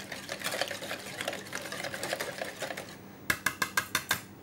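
A whisk or spoon stirs a custard of hot cream and egg yolks in a bowl, a soft steady swishing rhythm for a few seconds, ending in several sharp quick taps against the rim.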